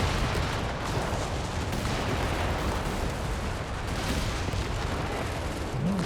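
A walking Stuka rocket barrage in Company of Heroes 3 rolls on as a continuous dense roar of distant explosions and rumbling artillery, steady and loud with no clear gaps.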